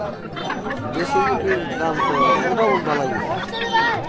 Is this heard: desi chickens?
yes